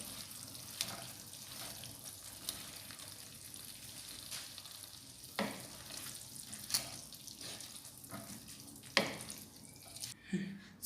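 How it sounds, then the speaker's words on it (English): Chicken pieces stir-fried in a chilli gravy give a faint, steady sizzle and hiss, broken by occasional soft clicks and scrapes from stirring in the pan. "stir fry it and cook for a few seconds"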